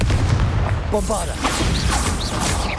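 Bombarda blasting spell in Hogwarts Legacy detonates as a loud booming explosion with crackling debris, amid other spell effects.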